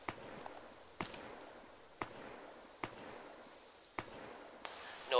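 ShackTac Arma gunfire rings out as single sharp cracks about a second apart, six or so distinct shots over a quiet background, fairly distant.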